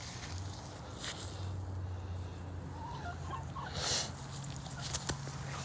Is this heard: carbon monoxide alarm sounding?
no